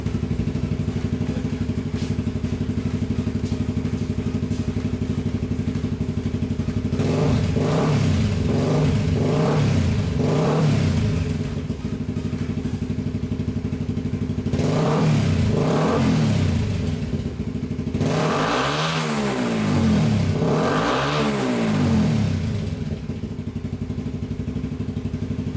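A Suzuki GSX-R150 motorcycle fitted with a Magna Akrapovic replica exhaust idles steadily, then is revved hard in repeated sharp blips, first in quick groups of short throttle stabs and later in a few longer, louder revs, all close by.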